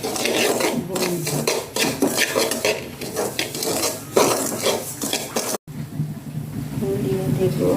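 Semolina roasting with ghee in a pan for halwa, a spoon scraping and stirring against the metal in repeated rasping strokes, followed by a quieter sizzle after a short break, with someone speaking over it.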